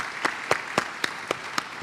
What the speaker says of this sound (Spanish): yo quiero un aplauso para Nicole